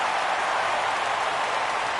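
Baseball crowd in a PS4 baseball game rising for a full count, a steady, bright wash of cheering and applause with no talk over it.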